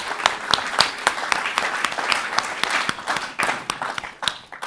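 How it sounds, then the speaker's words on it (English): An awards ceremony audience claps in a strong round of applause, the dense clapping rising and falling in uneven surges with occasional crowd noise mixed in. "Can we get a round of applause to all of our judges,"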